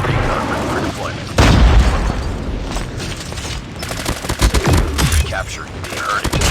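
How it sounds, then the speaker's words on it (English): Napalm strike explosions in a 10 vs 10 Domination match of Call of Duty Mobile: rolling booms and crackling blasts mixed with steady gunfire, loud and continuous, with bursts of impacts throughout. "Friendly napalm deployed"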